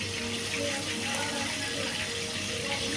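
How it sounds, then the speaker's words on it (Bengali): Water pours steadily into a pot of boiling rice, a continuous close rushing gush that holds without a break. "এদিকে ভাতটা কিন্তু ফুটে গেছে, আমি একটু সামান্য জল দিয়ে দিচ্ছি।"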